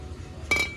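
A glass Halloween decoration knocked while handled in a store gives a single bright clink with a ringing tone that lingers, heard against quiet background murmur.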